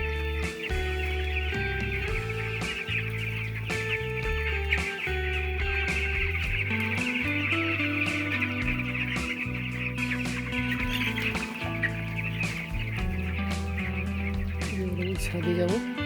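Broiler chickens about sixteen days old peep and chirp in a poultry farm while feeding and drinking, a busy constant chatter under a steady low mechanical hum, with occasional voices.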